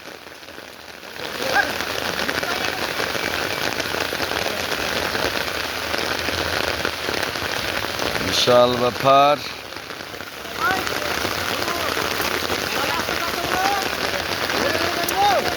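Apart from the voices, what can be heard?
heavy rain falling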